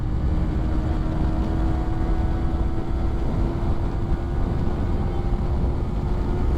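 A Yamaha R15M motorcycle engine pulls hard in fourth gear at high rpm, a loud, steady, continuous drone with a sustained high engine whine, heard over wind rush.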